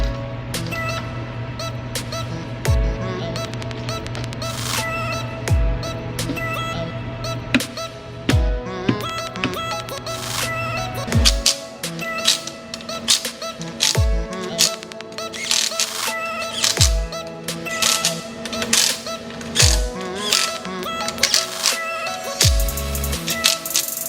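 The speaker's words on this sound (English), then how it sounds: "So we're gonna stick those guys in, get them torqued" Rapid bursts of ratchet wrench clicks sound as timing cover bolts are torqued through the oil pan on a 5.2L Ford Coyote engine, close and sharp, with short irregular pauses between runs.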